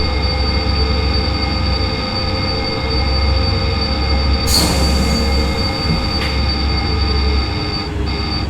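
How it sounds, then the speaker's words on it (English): Emergency brake application on a train in Train Sim World 5 under the Dutch ATB safety system, a loud sustained rumble of rolling wheels joined midway by a sharp metallic squeal that fades as the train slows. "wait for the train to enforce emergency braking"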